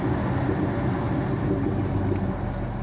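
A 1976 Oldsmobile Cutlass Supreme drives along with a steady, loud low engine and road rumble from inside the cabin, plus a constant hiss and faint intermittent rattles, with no talk.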